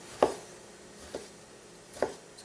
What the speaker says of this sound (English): Smooth, clean cuts on that tomato skin.